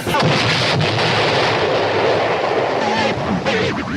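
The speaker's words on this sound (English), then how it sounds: "We've evidently upset the cannon this morning." A loud, continuous roar of booming artillery-style blasts, the 'magic cannon' effect from a morning radio show, filling the whole stretch with dense rumbling bursts and no speech over it.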